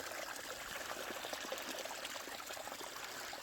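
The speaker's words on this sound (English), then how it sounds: "A little natural stream flowing through it." A small natural stream flows through a boggy ravine on a hike near Winscar Reservoir, a steady close trickling and gurgling of water with no voices.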